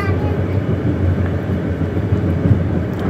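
Inside an executive-class carriage of the Banyubiru train between Semarang and Solo, a steady low rumble and rolling drone of the moving train fills the cabin continuously.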